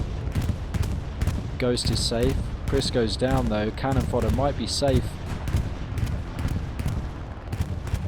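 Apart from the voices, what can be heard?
bombing run explosions and gunfire in the video game Squad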